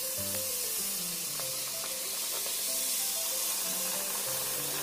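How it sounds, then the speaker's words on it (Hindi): Farsi puris, a crisp namkeen for Diwali, fry in hot oil over a medium flame, giving a bright, continuous hissing sizzle with scattered pops, close up and steady throughout, with faint clinking tones underneath. "अभी तेल भी गर्म हो गया है तो पूरियां हम फ्राई कर लेंगे।"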